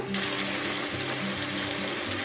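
Water splashes and gushes continuously nearby as a mixer-grinder jar is rinsed out while cooking chicken curry, with a low hum beneath.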